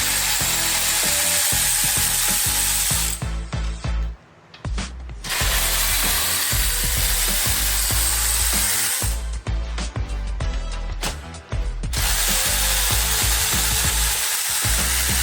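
Power tool backing out screws from an engine bracket on a 2015 Lamborghini Huracan V10, loud close rattling whir in long runs broken by two brief pauses.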